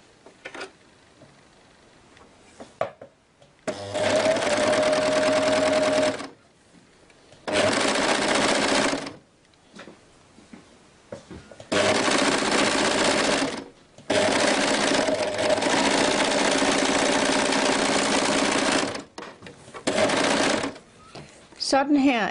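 A four-thread overlock machine stitches a kimono shoulder seam, running in several loud, steady bursts of a few seconds each, separated by short pauses with quiet handling noise.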